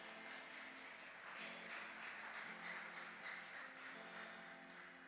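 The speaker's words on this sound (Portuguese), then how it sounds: "Pode aplaudir a ele" Sustained applause from a church congregation, a steady dense wash of clapping that holds at an even level for the whole stretch with no voices standing out.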